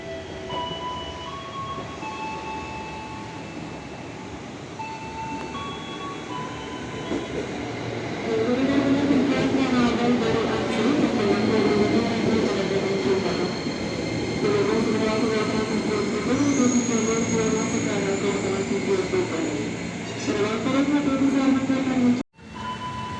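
A commuter train bound for Bogor arrives at Cawang station, its rumble and wheel noise building close by and rising to a loud, sustained roar, with squeals and clatter over a station announcement.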